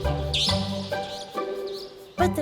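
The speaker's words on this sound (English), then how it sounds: "to chirping while standing on water towers, antennas, or the corners of eaves, they also sing while flying." Birds perched on water towers, antennas and eave corners give a few bright chirps in short bursts against a layered tonal background.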